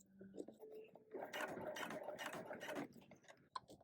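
A sewing machine stitches slowly across the thick, layered waist seam of a hoodie, in a close, steady burst of rapid needle strokes lasting a couple of seconds, with quiet voice sounds and handling before and after.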